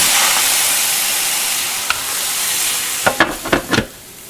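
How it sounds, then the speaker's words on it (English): A cheese omelette sizzles and steams under a lid after a little water goes into the pan, making a steady loud hiss that slowly fades, followed by a few short crackling bursts near the end. "we'll put the lid on with a little bit of water that'll steam and melt the cheese"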